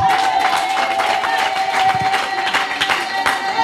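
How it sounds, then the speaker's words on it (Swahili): Audience at a church women's and marriage seminar applauds for Mzee Soya, a steady, dense wash of clapping and crowd noise throughout, fairly loud with a faint sustained tone beneath. "Tumpigie makofi."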